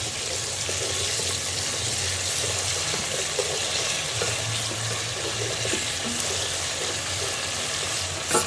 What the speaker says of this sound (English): So now I'm going to stir.